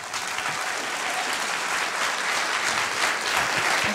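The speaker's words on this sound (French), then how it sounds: "Et je pense qu'on peut l'applaudir." A film festival closing-ceremony audience applauds a jury organiser, with loud, sustained clapping from a large crowd that stays full and even throughout.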